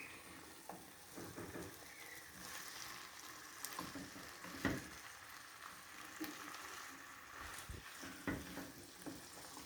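Okra stirred through masala spices with whole chillies in a hot pan, sizzling continuously with scattered scraping and clacking strokes of the spoon against the pan, fairly quiet and without talk.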